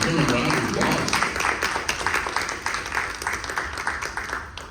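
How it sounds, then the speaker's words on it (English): An audience applauds a documentary director at a moderated panel discussion, a broad clapping wash that gradually thins into more distinct individual claps, with some voices mixed in. "give him a round of applause"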